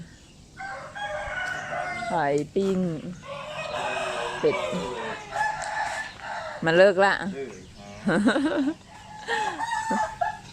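Chickens around a Thai countryside home in Korat: a rooster crows several times and hens cluck in bursts, close by, while someone talks between and over the calls.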